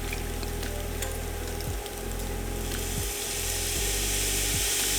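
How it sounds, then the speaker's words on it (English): Worcestershire sauce is used to deglaze a frying pan while cooking chicken pasta, giving a dense, loud continuous sizzle with a steady low hum and a few soft scraping sweeps. "I'm actually going to do a bit of a deglaze here. I'm actually going to use a little bit of Worcestershire."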